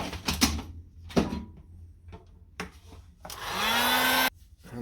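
A heat gun drying chrome paint, heard as a short steady blowing whir near the end, after several brief knocks and clatters.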